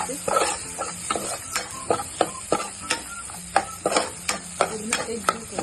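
Homemade chutney, turmeric and salt being mixed by hand for stuffed brinjal, with a run of close, soft squishing and stirring pats in an irregular rhythm, no talk.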